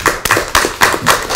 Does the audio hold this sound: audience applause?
yes